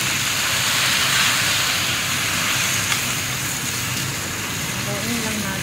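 A Chinese stir-fry being tossed and stirred in a hot pan gives off a loud, continuous sizzling hiss that holds steady throughout with little change.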